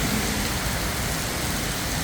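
Heavy storm rain in Kanchanaburi, a dense, even hiss of downpour drumming on surfaces, loud and unbroken, with a faint vehicle hum mixed underneath.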